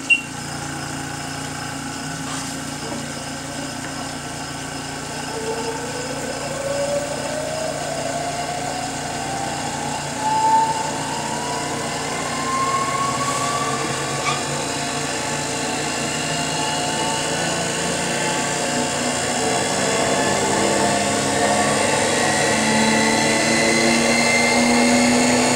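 A Brewer Science 100 spin coater spins up toward 6,000 RPM, its motor whine rising steadily in pitch over a constant mechanical hum, close and fairly loud with no voices.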